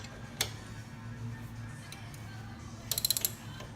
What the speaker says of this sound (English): So I'm just going to keep turning the tap and rethread these holes.